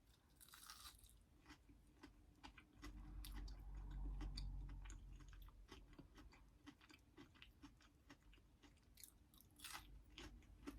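Close, quiet crunching and chewing of crispy fried Arby's mac n cheese bites, with repeated crisp bites and moist mouth sounds in a steady eating rhythm and no talk.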